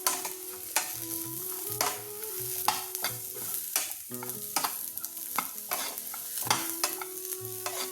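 Onions, ginger and garlic fry in a pan with a soft sizzle under repeated scraping and stirring strokes of a utensil, fairly close.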